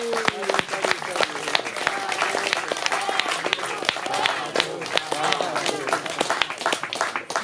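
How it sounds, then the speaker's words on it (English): Audience applause for Prahlad at a lecture in a private home, sharp individual claps scattered through a continuous wash of clapping, with a voice speaking over much of it. "Let's give Prahlad a big round of applause for"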